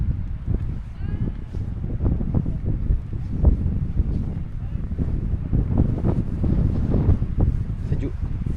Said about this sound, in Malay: Sejuk. Angin kuat.